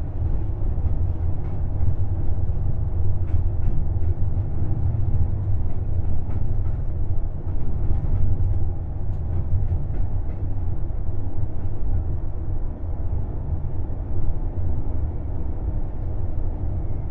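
A BB75400 locomotive pulls out of Vierzon station heading south, its heavy low rumble and rolling wheel noise steady and loud from the cab throughout, with faint clanks and rail clicks on top.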